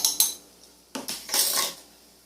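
A spoon works through spicy aioli with garlic and Creole seasoning in a dish, giving a couple of quick clinks followed by a louder burst of scraping and knocking against the container.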